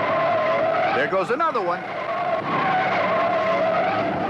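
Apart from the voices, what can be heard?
1971 NASCAR race cars skidding in a crash spin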